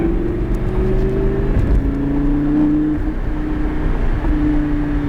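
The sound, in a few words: car accelerating during a driving lesson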